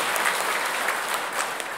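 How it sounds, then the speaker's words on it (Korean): Church congregation applauding during Sunday Mass, a short burst of steady, even clapping from many hands in a reverberant hall. "우리 고생하셨으니까 우리 박수 한번 칩시다."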